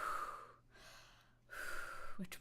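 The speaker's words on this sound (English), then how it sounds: "So you gotta breathe out first, and then you gotta breathe in" A person breathes out and then in, two long airy breaths separated by a short pause, close and fairly quiet, with a small vocal sound at the end.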